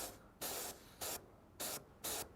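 An airbrush spraying paint onto a scale model gives four short hissing bursts at an even rhythm, close and clear, separated by brief pauses.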